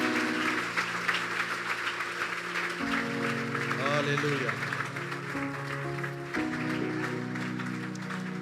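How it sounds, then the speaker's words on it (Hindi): A church congregation in Dubai claps steadily under sustained keyboard chords, while a voice speaks briefly over the applause. "प्रभु के जलाल के लिए हम जोरदार तालियां बजाएंगे"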